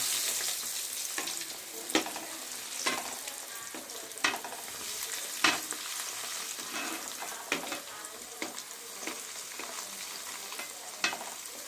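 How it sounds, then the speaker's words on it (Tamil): Chicken pieces frying in hot oil for candy chicken give a continuous close sizzle, punctuated every second or so by sharp scraping clacks of a spoon stirring in the pan. "சூடாக இருக்க எண்ணெயில் இப்போ நல்லா குளிப்பாட்டிடலாம்."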